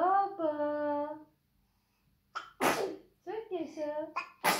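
A baby's voice babbles in harmonic tones, then after a short pause a sharp, noisy sneeze bursts out, followed by more baby vocalizing and a second quick sneeze-like burst near the end.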